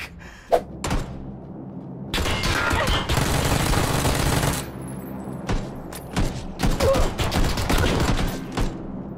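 PUBG gunfire in bursts: a couple of sharp single shots, then a long sustained volley, then more scattered rapid shots, close and loud with brief gaps between.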